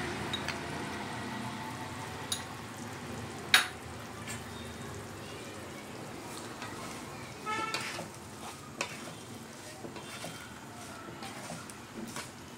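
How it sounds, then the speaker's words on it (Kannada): Raw mango pieces are mixed with rock salt and chili powder for mango gojju, giving soft scraping and occasional sharp spoon clinks against the vessel, with faint talking in the background. "ಕಲಿಸ್ತಾ ಇರೋಣ"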